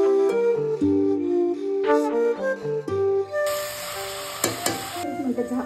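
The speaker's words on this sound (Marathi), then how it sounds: "आता आपण मटण टाकून घेऊया। मटण टाकल्यानंतर आपल्याला छान असं परतून घ्यायचं आहे" Mutton tossed with onions for a spicy dhaba-style curry sizzles steadily in a pan, with stirring scrapes, loudest in the second half; tonal background music plays over the first part.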